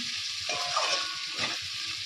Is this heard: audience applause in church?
no